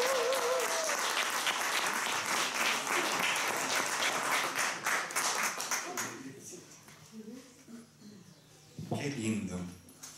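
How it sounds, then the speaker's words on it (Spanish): A church congregation at a teaching session bursts into thick, loud applause that fills the room for about six seconds, then thins out as a voice speaks over the fading claps. "Démosle un aplauso al Señor."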